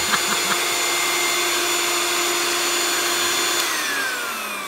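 A Dyson V10 cordless vacuum cleaner runs with a steady high whine nearby, then spins down toward the end.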